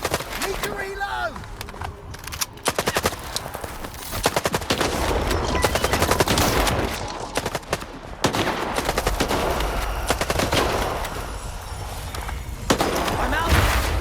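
Automatic gunfire rattles through a firefight in the video game Stalker 2: Heart of Chernobyl, with loud, rapid bursts repeating almost without pause and voices calling out amid the shooting.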